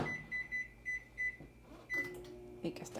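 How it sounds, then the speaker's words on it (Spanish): A microwave oven runs while heating a bowl of watery soup, a steady low hum broken by a series of short, regular electronic beeps, followed by some clunks near the end. "al microondas, a calentarlo"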